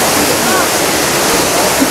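The Manyueyuan waterfall in a Taiwanese national forest recreation area gives off a steady, dense roar of falling water, close and constant for the whole short stretch.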